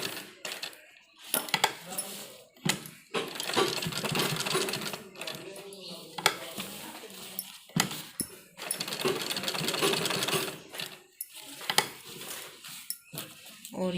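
Sewing machine stitching along the edge of a men's kurta placket in bursts of rapid whirring, separated by pauses, metallic clicks and handling noises.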